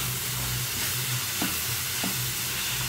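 Chopped mushrooms fry in a pan with softened onion and tomato, a close, steady sizzle broken by a few stirring scrapes.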